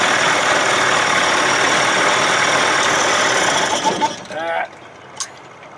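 A 1979 Evinrude 55 hp outboard motor, under repair for reed valve and compression problems, runs with a loud, steady, close drone that sputters and cuts out near the end, leaving a brief quieter tail.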